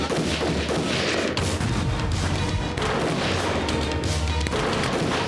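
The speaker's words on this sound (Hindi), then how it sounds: "दुश्मन के सैनिक बंदूकों से गोली चला रहे थे।" Dense, continuous gunfire and explosions from an action film battle scene blend into a loud, chaotic battle roar, with repeated bursts and thuds throughout.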